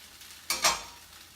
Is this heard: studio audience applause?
no